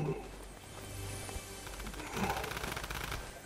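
Gunfire in a video game, rapid automatic bursts of shots rattling at moderate volume over game ambience, with a second flurry of shots near the end.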